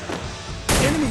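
Gunfire in the video game Free Fire comes as a sudden loud burst of shots partway through, over a softer background of game noise.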